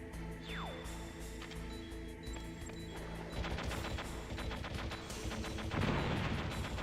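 Rapid bursts of gunfire from the Metal Gear Solid video game, overlaid on steady game music with a falling tone near the start and heavier volleys toward the end.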